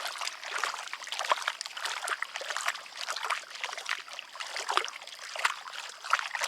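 Wet, sticky clay and water swirled in a gold pan while panning on Minnesota's Iron Range, a soft continuous sloshing and trickling with rhythmic surges, close and fairly quiet.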